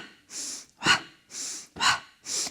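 Rhythmic heavy breathing during a Pilates core workout with a ball, alternating sharp inhales and forceful exhales, about five close breaths in quick succession.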